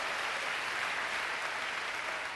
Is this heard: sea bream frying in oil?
no